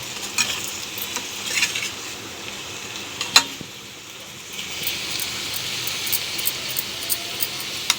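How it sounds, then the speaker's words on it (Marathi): Khoa stirred in a pan with a spoon makes close, repeated scraping strokes over soft sizzling, with a sharp clack near the middle and no speech. "आता हे चांगले मिक्स करून घेऊ"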